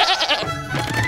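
Sheep in the animated film How to Train Your Dragon 2 let out a short, loud, wavering bleat followed by a second quick bleat, heard close with no talking over it.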